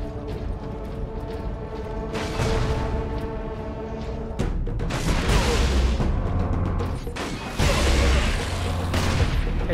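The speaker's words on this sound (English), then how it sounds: "I do like this las cannon." Las cannon fire in Warhammer 40K Space Marine, loud booming shots and heavy mechanical blasts in a sustained barrage, with sharp new bursts around the middle and near the end over a droning game soundtrack.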